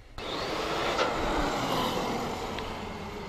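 A CEN Colossus XT RC monster truck running a new 6S setup drives steadily, its motor and drivetrain giving a continuous whirring roar with faint gravel crunch, close and loud throughout with no pauses.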